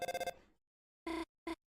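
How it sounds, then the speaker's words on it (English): A telephone rings in a cartoonish video game scene: a rapid buzzing ring burst, then two shorter separate rings after a pause, clear and alone. "Sorry, phone call."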